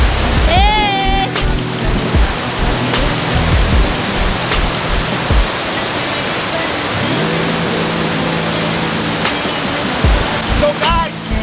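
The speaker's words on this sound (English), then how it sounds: "So guys, we are at the waterfall. This is the waterfall." A waterfall at a lakeside game lodge roars in a loud, constant broadband rush close by, with music playing over it and a brief voice sound near the start.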